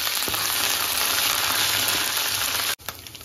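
Spice paste for Garhwali chaunsa dal hits hot oil and sizzles loudly and steadily, a dense close frying hiss that drops off sharply near the end.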